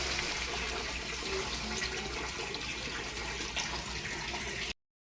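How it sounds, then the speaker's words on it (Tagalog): Water poured or running steadily into a pot of chicken caldereta with potatoes and tomato sauce, a continuous close splashing wash that holds for several seconds and then cuts off abruptly. "Lagyan ng tubig."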